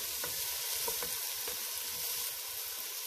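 Tomatoes hiss and sizzle steadily in a hot pan for a cauliflower soup, a dense continuous frying crackle with a few faint scrapes and knocks, no talking.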